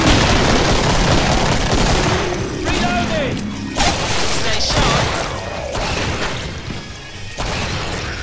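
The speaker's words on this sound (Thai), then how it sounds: "นี่คือ M79 ครับ" M79 grenade launcher fired in the video game Killing Floor: heavy booming shots and blasts pile into a dense, loud, continuous wash of combat noise, with voices talking over it.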